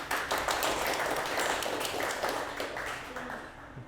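A small audience at a local tech meetup claps steadily and fairly faintly as a speaker is introduced, a dense patter of many hands that fades slightly toward the end, with no talking over it.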